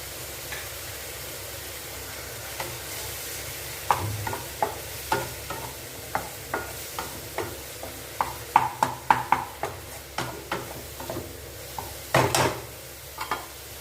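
Tomatoes sizzle steadily in a pan, broken by repeated scraping and stirring clatters of a utensil against the metal, with no voices.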